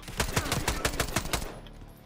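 Rapid semi-automatic weapon fire in the Black Ops 6 campaign, about a dozen loud, evenly spaced shots that stop abruptly, leaving faint game ambience.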